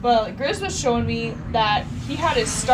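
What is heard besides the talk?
No everyday noise stands out behind the speech.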